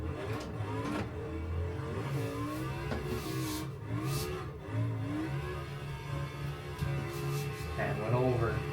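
Car engine in a racing simulator video game, revving through rising and falling pitch sweeps with a continuous droning whir, steady and moderately loud throughout.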